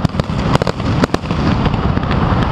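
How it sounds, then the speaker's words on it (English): Deafening mid-morning fireworks session in China: rapid, crackling firecracker bursts with sharp pops rattling continuously, loud and close, with dense booming underneath and no talking. "Mid-morning fireworks session. Absolutely deafening."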